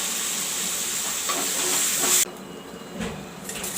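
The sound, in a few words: masala frying in a pan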